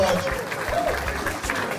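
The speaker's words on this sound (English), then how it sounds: "A round of applause for him." Audience applause at a scholarship announcement honoring a gastroenterologist, steady broadband clapping throughout with voices mixed in.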